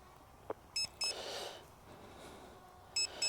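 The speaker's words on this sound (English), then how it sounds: "I'm going to hit the function button to stop the beeping" Several short electronic beeps from a mini drone's controller, two together early on and another two near the end, fairly faint over a soft background hiss. No one speaks.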